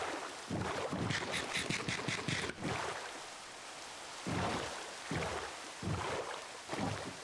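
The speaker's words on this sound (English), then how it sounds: "Oh, it's raining." Steady rain hisses throughout in modded Minecraft, with soft low thumps and brief bursts of brighter splashing.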